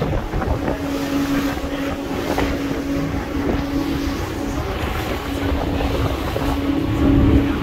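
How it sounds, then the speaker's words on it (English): Strong wind buffets the microphone in a constant roaring rush, with a low steady hum underneath and no talking. "And it's super windy."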